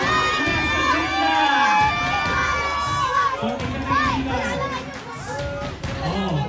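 A loud crowd of children cheers and shouts together at a baby gender reveal, a continuous excited roar with high-pitched yells rising and falling throughout.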